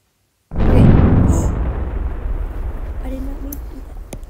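A huge video game explosion as Earth is destroyed, bursting in loud and deep after half a second of silence, then rumbling and slowly fading with faint debris crackle.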